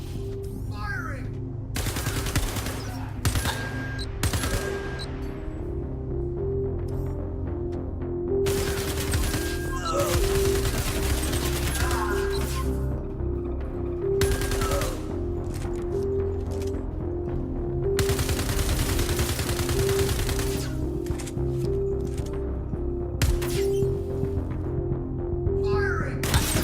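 Gunfire from a shooter video game, dense bursts of rapid automatic shots and volleys running continuously over a steady low engine-like drone, fairly loud throughout.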